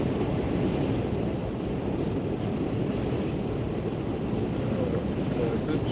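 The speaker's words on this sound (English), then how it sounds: "Woo, windy." Buffeting wind roars over the microphone while driving a VW e-Up home along an open road, a constant loud rushing wash with no distinct events.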